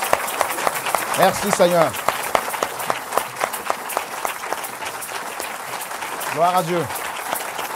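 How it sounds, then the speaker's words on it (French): A church congregation applauding together: rhythmic clapping across the clip, with a voice giving praise over it. "Let us give him a round of applause all together."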